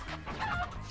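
In Crash: Mind Over Mutants, cartoonish chickens cluck loudly and close up in a brief, busy burst of squawks.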